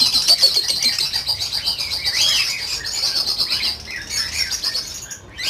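Lutino and blue lovebirds and cockatiels in breeding cages keep up a dense chorus of sharp squawks and shrill chirps, loud and overlapping without pause.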